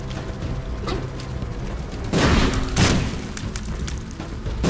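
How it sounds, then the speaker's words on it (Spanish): Deep booming explosions from The Binding of Isaac: Wrath of the Lamb go off in quick succession, two heavy blasts standing out loudly over a steady bed of game noise and smaller thumps. "Tanta explosión."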